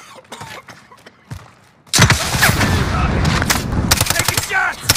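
Gunfire from Call of Duty Black Ops Cold War starts with scattered shots, then erupts into dense, loud bursts of rapid automatic fire mixed with booms, with voices talking throughout.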